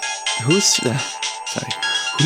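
A mobile phone rings in a repeated electronic tone pattern while a voice talks over it, the ringtone bright and insistent throughout.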